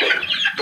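A laying hen gives a brief, close cluck, one short throaty burst in a backyard flock with chicks nearby.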